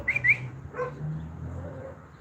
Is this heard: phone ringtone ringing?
no